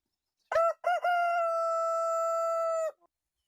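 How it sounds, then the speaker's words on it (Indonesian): A rooster crows once, loud and close: a few sharp opening notes, then a long, steady drawn-out call lasting about two seconds before cutting off, with silence around it and no talk. "Seketika itu juga berkokoklah ayam."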